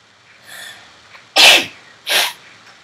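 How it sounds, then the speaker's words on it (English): A person sneezes twice, two sharp, loud bursts about half a second apart, after a faint breathy lead-in, close to the mic with no talk over them. "I just can't stop sneezing."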